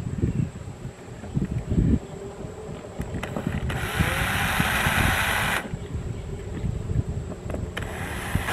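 A power drill drives screws into a vent cover in one steady, whining run of a couple of seconds, close by, with handling noises before and after.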